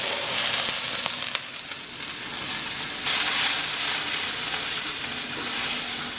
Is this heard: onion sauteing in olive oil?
yes